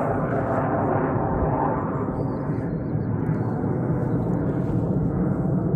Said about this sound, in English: I don't want to shout over the jet